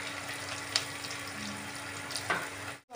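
Onions sauté with a pinch of salt for coconut rice, making a soft, steady sizzle with a few light clicks of a spatula, close by and quiet, ending abruptly.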